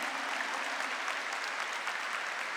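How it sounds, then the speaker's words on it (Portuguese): Dense, even applause from a large church audience at a religious talk, a continuous wash of clapping at steady loudness throughout. "E pode bater palmas"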